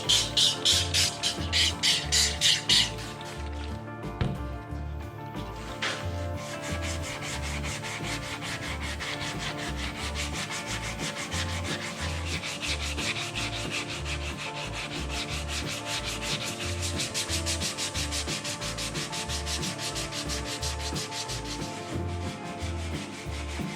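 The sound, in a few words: wet sanding dirt bike plastic with 240 grit wet-and-dry sandpaper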